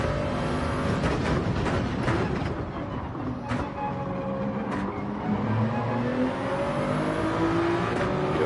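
Race car engine in the Gran Turismo 7 racing game, sustained and loud with rising and falling revs through gear changes as the car laps a circuit, with other cars audible around it.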